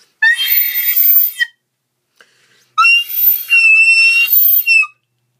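A recorder is blown very hard, giving two loud, shrill, piercing tones separated by a short pause. The second tone wavers and rises in pitch.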